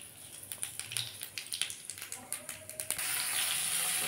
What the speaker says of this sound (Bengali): এবার এই তেলের মধ্যেই একটু কালো জিরে ফোড়ন দেবো